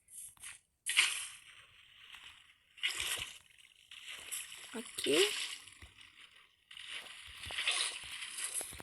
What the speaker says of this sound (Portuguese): nós vamos limpar tudo aqui, né, com o balde d'água.